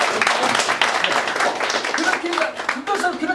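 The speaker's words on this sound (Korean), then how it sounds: "박수 한번 주십시오." Members of a Korean Aphae Jeong clan association gathering give a burst of hand clapping, sharp and fairly close at first, then thinning out as a voice speaks through the rest.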